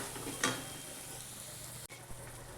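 A spiced chilli masala paste fries quietly in a pan for a cowpea-pod dish, a faint soft sizzle with one short stir-clatter early on and otherwise a low steady hiss, no voices.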